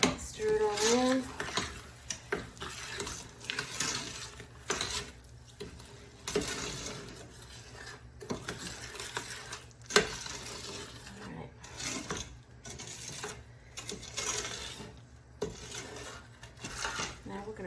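Jalapeno pepper jelly is stirred in a hot pot with a utensil that scrapes and clinks against the metal in an uneven, irregular rhythm, with a kitchen hum underneath and occasional talk.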